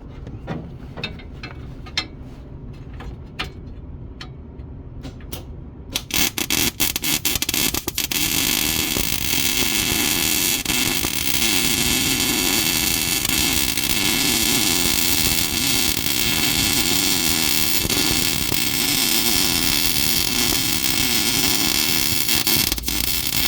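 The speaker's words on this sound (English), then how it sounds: "I see where I want the weld. Can I get it there?" Welding on a Jeep battery box: a few short crackling bursts start things off, then a loud, continuous buzzing, crackling arc runs steadily for most of the stretch, close and without talk.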